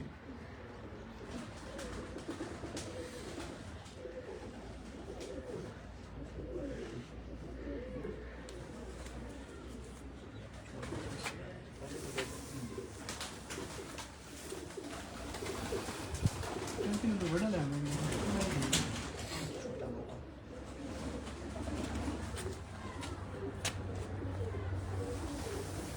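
Pigeons coo repeatedly on a rooftop in Kotli Bazar, a steady low burbling that runs through the whole stretch beneath men's nearby conversation.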